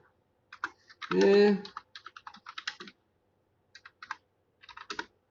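Computer keyboard typing during a live online history lesson, short irregular bursts of close, crisp key clicks separated by pauses, with a brief spoken interjection near the start.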